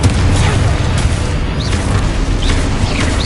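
Confringo blasting spell explosions in the Hogwarts Legacy video game, loud dense booming bursts with crackling over a constant rumbling game soundscape, repeated several times through the short stretch.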